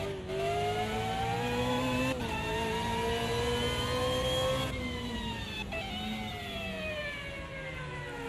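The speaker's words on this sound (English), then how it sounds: "Sounds like we've got some engine bugs" A race car engine with a buzzing glitch in a DTM racing video game at the Nurburgring, heard on board as a steady, loud, harmonic-rich drone that rises and falls in pitch through throttle changes and gear shifts, alone without talk.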